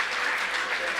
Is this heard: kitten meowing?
no